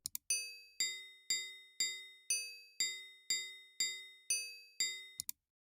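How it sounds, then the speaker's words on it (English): Ten evenly spaced metallic cowbell metronome clicks generated in Audacity, in a steady tempo, each sharp and briefly ringing, quiet and isolated. "So cowbell will sound like this."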